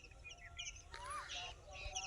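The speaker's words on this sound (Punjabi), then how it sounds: "ਤੜਕੇ ਦਾ ਟਾਈਮ ਵਿੱਚ ਜਾਨਵਰ ਪੰਛੀ ਅੱਡੋ ਵੱਡ ਪਾਂਚਾ ਕੱਢਦੇ ਹੋਏ" Birds call at dawn on a rural Punjabi farm with scattered high chirps and tweets, one longer rising-falling whistle, some close and some farther off, over a faint low background rumble.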